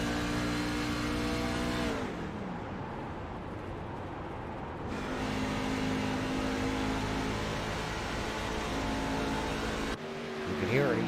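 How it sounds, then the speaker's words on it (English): Race car engines on the Dover Motor Speedway oval during a Scrambler Series race, a loud continuous drone that drops and shifts in pitch, then swells again as cars pass, with no talking. "Sounded like Max Terriot was shutting off the engine of that 42 machine"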